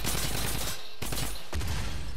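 A Fortnite turret firing continuously in a dense, sustained stream of shots, loud and close, with two brief gaps in the barrage.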